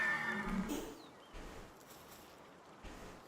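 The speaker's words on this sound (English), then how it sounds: "I heard a horse." A horse whinnies in Palworld, a short bright neigh near the start, followed by quieter ambient game sounds and faint soft thuds.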